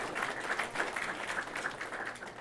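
Steady applause from an audience at a township address, a dense even patter of many hands clapping throughout at moderate distance, with no voices rising above it.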